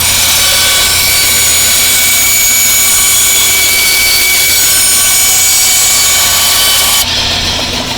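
Bandsaw running steadily after its rub blocks and roller depth were adjusted, a loud continuous whirring hum with a slight drop in tone near the end, no voices.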